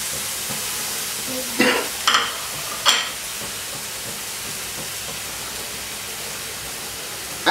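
Cherry tomatoes caramelize face down in sugar in a pan over medium heat. A soft, steady sizzle runs throughout, broken by a few brief louder crackles and stirring scrapes.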